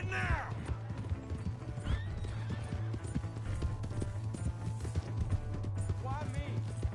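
Horse hooves gallop in a steady clip-clop rhythm in Red Dead Redemption 2, with a sharp neigh near the start and another whinny near the end, all close and loud amid other game sounds.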